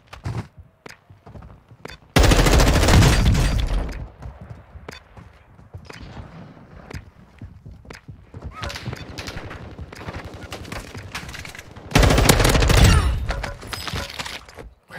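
STB 556 rifle in Warzone 2.0 firing loud, rapid automatic bursts in two long volleys, with scattered single shots and clatter between, while someone talks.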